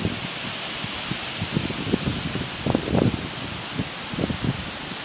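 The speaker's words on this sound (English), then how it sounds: "Wind is picking up." Strong wind roars at night during Hurricane Irene in Cherry Hill, New Jersey, a dense, steady rush with rustling gusts swelling up close.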